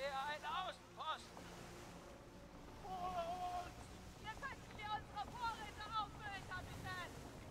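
A sailing ship moving through rolling waves at sea in the pirate game Skull and Bones, with a steady wash of wind and water beneath someone talking in German almost throughout.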